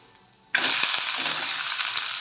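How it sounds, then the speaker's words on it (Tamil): A lentil adai dosa hits hot oil in a pan and sizzles loudly and steadily after a brief quiet start, continuing as an even frying hiss with no talk. "ஆயில் கொஞ்சம் விட்டுக்கலாம் திருப்பி போட்டுக்கலாம்"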